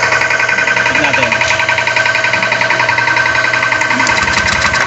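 A Honda Beat FI scooter with an error 12 fault fires up and keeps running, a close, loud, steady rapid engine chatter with a whiny hum, while voices talk over it.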